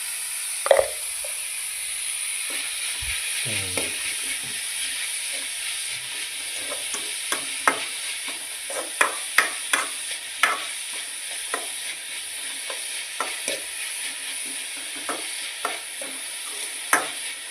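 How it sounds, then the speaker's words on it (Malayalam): Winged bean thoran frying in a pan, a faint continuous sizzle under a steady run of light scrapes and taps as it is stirred, close by with no voices. "ഇളക്കി കൊടുക്കും"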